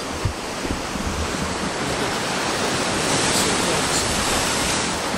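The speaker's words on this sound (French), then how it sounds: "les vagues, elles sont énormes" Big ocean waves crash and roar continuously at Puerto de la Cruz, Tenerife, a loud, dense wash of surf filling the whole stretch with no letup, close and overwhelming.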